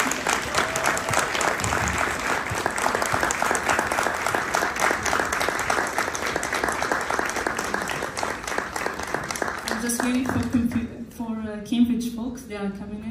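An audience at a Digital Equity Week event claps in sustained, dense applause for about ten seconds, fading as a speaker's voice returns near the end.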